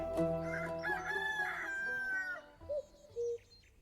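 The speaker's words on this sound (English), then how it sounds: "Ooh, the cuckoo clock." Cuckoo clock going off in the video game Tavern Talk: a bright, rooster-like crowing call that holds a long wavering note, followed by two short, softer chirps.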